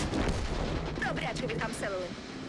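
Tank cannon fire in a tank combat video game, a shot into the roof of an XM57, heard as a sustained dense rumble of battle noise with broadband bursts, loud and continuous over about two and a half seconds, with voices faintly mixed in.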